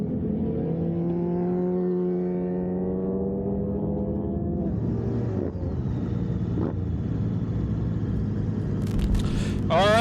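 Race motorcycles for an amateur Formula Middleweight race head out onto the track, their engines droning and revving in rising, overlapping tones at a moderate distance, with a louder burst near the end.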